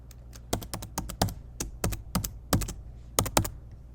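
Quick bursts of key presses on a computer keyboard while a password goes in, crisp close clicks in uneven clusters with short pauses between them and no talk.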